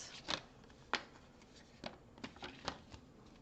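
Paper snips as designer series paper is cut into 2-inch squares with scissors, several short separate crisp cuts spaced irregularly, close and fairly quiet with no talking.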